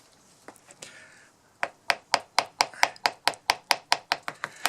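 A chisel cutting a hinge recess into a door by hand: about a dozen sharp, evenly spaced strikes in a steady rhythm, close and crisp, with no talking.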